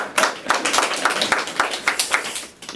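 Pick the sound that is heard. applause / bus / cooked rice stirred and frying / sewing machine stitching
applause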